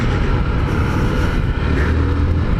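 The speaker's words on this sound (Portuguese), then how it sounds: "Chega o Camaro!" A Chevrolet Camaro pulls up with a loud, continuous engine roar, staying close and steady throughout.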